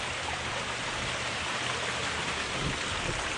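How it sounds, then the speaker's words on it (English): Steady, dense rain hisses continuously at an outdoor mining claim, a broad wash of drops falling on surfaces nearby with no voices. "Lots of rain, man."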